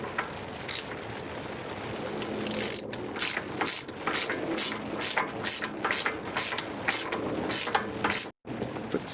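A hand ratchet clicks in quick repeated strokes while tightening the 36 mm axle nut on a 1999 Acura RL, loud and close with steady bursts and brief pauses.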